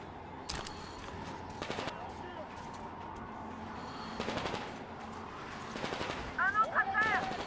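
Scattered gunshots in Metro Exodus, a few isolated shots and short bursts at moderate distance over a low ambient rumble, fairly faint, with a brief chirping sound near the end.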